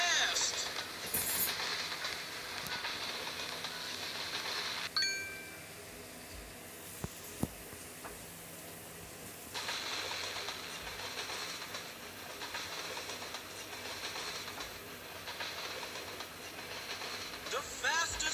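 A train running on the tracks with a steady rolling rumble and clatter, a sharp hiss-like burst midway, and voices talking at times.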